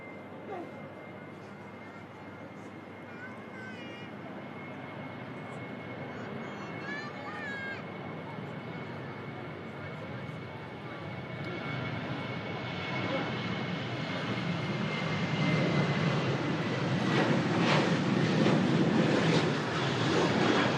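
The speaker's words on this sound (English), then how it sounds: "Jet 2 on the roll out to Corfu." A Jet2 passenger jet airliner rolls out for takeoff to Corfu at Manchester Airport, its engine roar steady at a distance, then swelling louder and fuller toward the end.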